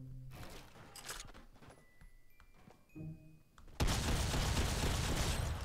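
Bursts of weapon fire in the mobile battle royale game Fortnite Mobile, scattered shots early on, then a loud, dense sustained volley filling the final two seconds.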